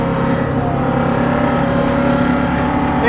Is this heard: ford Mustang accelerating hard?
yes